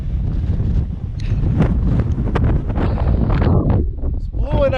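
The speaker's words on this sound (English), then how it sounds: "It's blowing a hoolie up here." Strong wind roars and buffets the microphone on the 943 m summit of Ben Vorlich, a Scottish Munro, in November, with loud, constant gusting throughout.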